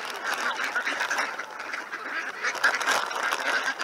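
A group of ducks quacks repeatedly in an outdoor neighborhood setting, a busy, overlapping chorus of nasal calls close by with no talking.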